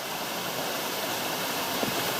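Cascading waterfall at Wentworth Falls in the Blue Mountains, a steady broadband rush of falling water close by, continuous and unbroken for the whole stretch with no voices.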